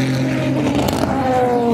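Alpine race cars at the 24 Hours of Le Mans, engines droning loudly nearby with a steady whine rising in pitch, like a car passing at speed.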